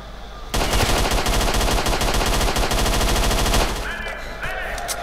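Gunfire in S.T.A.L.K.E.R.: Shadow of Chernobyl, a sudden, loud, sustained burst of rapid automatic shots lasting about three seconds, then fading into quieter ambience with a faint voice-like sound.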